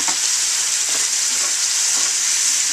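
Loud, steady sizzle of corn maque choux frying in a pan, with faint intermittent scraping strokes as caramelized bits are worked off the pan bottom, no voices.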